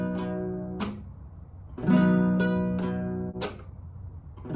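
Acoustic guitar strumming for a song in a pattern of hard downstrokes, regular upstrokes, hard hits at the top and palm mutes, several sharp strums and chords ringing close and clear with no talk.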